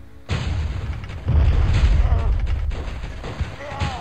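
Gunfire in the video game Turok Evolution lands as a heavy booming burst followed by rumbling, echoing shots that continue at steady loudness.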